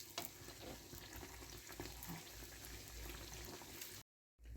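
Pirozhki dough frying in hot oil gives a steady, dense sizzle and bubbling, close and continuous, which cuts out briefly near the end.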